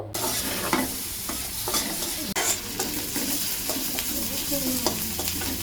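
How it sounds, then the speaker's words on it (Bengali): Onions fry in oil in a wok while being stirred, giving a continuous close sizzle broken by frequent scraping and stirring strokes, with no voices present. "পেঁয়াজ দিয়ে দিলাম কড়াই তারপর দিয়ে দিলাম পরিমাণ মতো তেল এখন ভালো করে ভেজে নেব"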